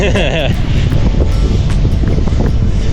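Strong wind blows outdoors by the water in the Netherlands, buffeting the microphone with a continuous loud rumble while a person talks over it.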